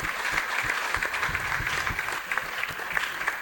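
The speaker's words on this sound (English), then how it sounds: "Please let the applause go round." Steady applause from an audience at a medical and dental alumni gathering, moderately loud with scattered individual claps standing out over the ongoing clapping.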